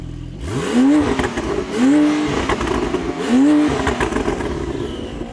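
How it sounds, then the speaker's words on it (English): Tuned 1100 hp Porsche 911 Turbo engine revving hard three times in quick succession, each rising roar held briefly then dropping back, loud and close with a rough idle rumble between. "the 1100 brake horsepower ES tuned Porsche 911 Turbo. Let's hear what it sounds like."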